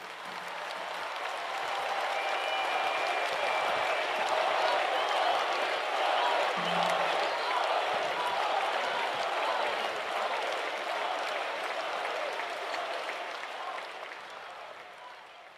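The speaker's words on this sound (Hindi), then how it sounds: "आप जोर से तालियां बजाकर उनका फिर से अभिवादन कीजिएगा" An audience claps loudly at a ceremony in Goa for a 77-foot statue of Lord Ram. The dense, sustained applause swells quickly, holds steady for many seconds, then tapers off near the end.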